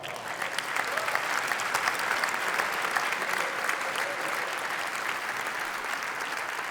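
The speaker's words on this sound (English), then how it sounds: "You can certainly hear the crowd appreciating that rally." Squash spectators applaud a rally in a championship quarterfinal, a steady wash of clapping that stays loud and even throughout without fading.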